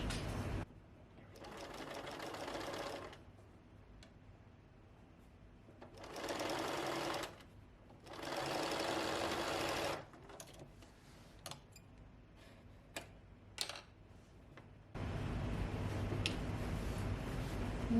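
A sewing machine stitches a rolled hem on fabric in several separate bursts of rapid mechanical whirring, with quiet pauses, scattered clicks and handling noise between runs, and a final longer run at the end.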